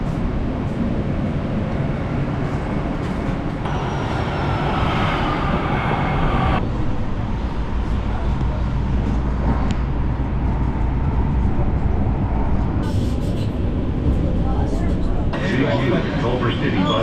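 Los Angeles light rail train ride toward Culver City, a steady loud rumble of wheels and car noise throughout, with a screeching rise midway and brief bursts of brighter rattle near the end.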